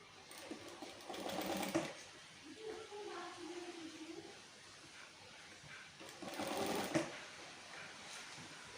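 A sewing machine stitching the sides of a bra, two close whirring runs of rapid stitching separated by a quieter pause with a brief soft hum, near and moderately loud.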